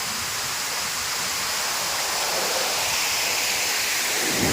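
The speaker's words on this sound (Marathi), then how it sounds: "बघा हा असा धबधबा आहे बघा" A waterfall pouring off a hill at Mandhargad roars in a dense, constant rush of water, loud and unbroken throughout.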